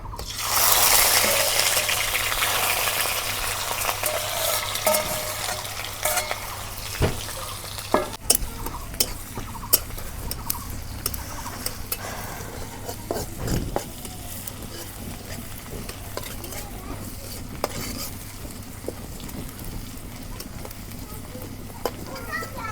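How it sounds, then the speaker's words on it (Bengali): Onions sizzle and hiss in hot mustard oil in a wok, a dense, steady frying noise that is loudest at first and then settles, with scattered stirring clicks and faint background voices. "তেল গরম হচ্ছে, এখন আমি পেঁয়াজ দিয়ে দিই"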